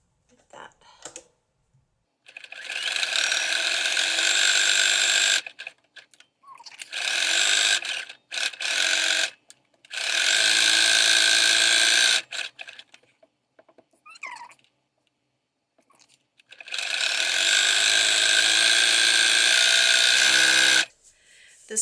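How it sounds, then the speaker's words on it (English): A sewing machine runs in several long bursts of rapid, steady stitching separated by pauses, working decorative stitches on textile for a thread-heavy piece; the whirring is loud and close with no talk. "I'm going to stick with these decorative stitches on this machine."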